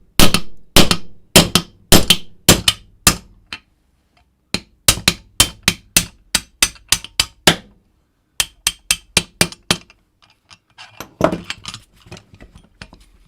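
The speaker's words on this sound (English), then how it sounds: "It's really recommended to use a hammer." A metal hammer strikes punches to drive pins out of a Dillon 550 reloading press during disassembly. Sharp, loud metallic blows land in quick bursts of several strikes, separated by brief pauses.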